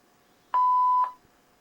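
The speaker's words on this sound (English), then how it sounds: "Please leave a message after the tone." An answering machine sounds its single steady electronic beep right after the voicemail greeting, about half a second long, clean and close against near silence.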